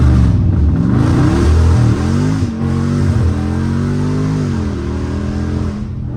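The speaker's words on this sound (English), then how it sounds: "Say put foot on the brake and quickly apply throttle." Dodge Charger engine revving hard under launch control, a loud, close roar that climbs and holds in pitch, then eases slightly and dips before rising again.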